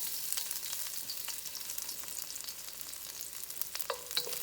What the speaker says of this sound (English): we are going to stir fry our garlic